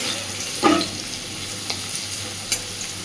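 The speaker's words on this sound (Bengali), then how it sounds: "দেখুন, আলুগুলোকে আমি সুন্দরভাবে ভেজে নিয়েছি।" Potatoes frying in a pan for a lote fish dish, soft continuous sizzle with a clear clatter of a spatula stirring early on and a few lighter taps later, no voices.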